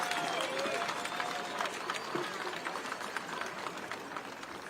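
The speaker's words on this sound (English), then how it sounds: "let's give the parents and the loved ones a big round of applause for the" Outdoor crowd applause at a youth baseball All-Stars championship parade, a steady wash of clapping and cheering heard from a distance, with whistles and crowd noise mixed in and no speech over it.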